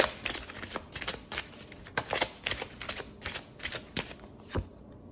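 Tarot cards shuffled by hand, a steady run of crisp, close riffling bursts repeating every half second or so, with no voices.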